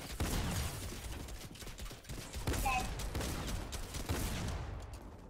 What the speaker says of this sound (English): I'm just gonna spam with my gun, bro